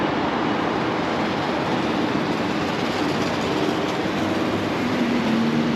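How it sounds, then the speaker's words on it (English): Steady rumble of a Dubai tram riding toward the marina, a continuous loud rolling hum with faint rail clatter and no talk throughout. "now I'm getting another tram to the marina."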